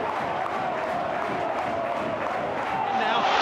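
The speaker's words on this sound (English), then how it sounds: "the crowd have come alive as well here" A football stadium crowd roars steadily during a Bournemouth versus Sheffield United match, a dense, loud wash of cheering that swells slightly toward the end.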